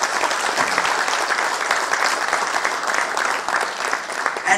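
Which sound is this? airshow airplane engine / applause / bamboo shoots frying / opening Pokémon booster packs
applause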